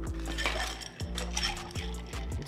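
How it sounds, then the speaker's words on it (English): A whiskey cocktail with coffee liqueur and orange bitters is stirred over ice, giving a steady run of soft clinks and rattles from ice against glass, close and moderately quiet, with no talking. "Stir it down until it's nice, chilled, and diluted."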